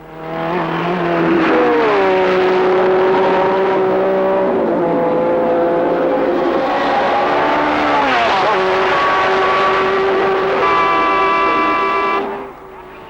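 Formula 1 race cars from 1967 scream around the Nordschleife, their high engines rising and falling through gear changes for about twelve seconds, loud and close, with a commentator's voice faintly under them before the sound cuts off.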